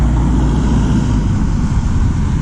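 Heavy trucks rumbling past on a road near Tagaytay, a loud, steady low-pitched roar that fills the whole stretch with no letup.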